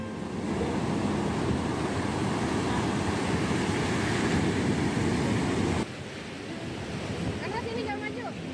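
Ocean surf rolls onto a beach in Sawarna, Banten, as a steady broadband wash of breaking waves with some wind across the microphone, loud and continuous, dropping slightly in level near the end.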